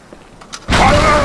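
A grenade goes off in Halo 2, a sudden loud broadband blast about midway through that holds as a dense roar with a ringing tone layered in, after a quiet lead-in.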